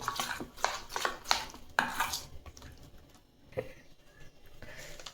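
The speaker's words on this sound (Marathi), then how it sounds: "ते आता रव्यामध्ये मिक्स करून घेऊ आपण हे मिक्स करून घेऊ" Ground green pea paste is mixed into semolina in a bowl, giving close scraping, clinking and patting strokes in an uneven rhythm that ease off toward the end.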